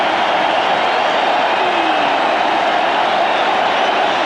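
A large cricket crowd cheers and roars steadily after a wicket at a 1996 World Cup match between South Africa and Pakistan, a dense, continuous wall of noise with no breaks.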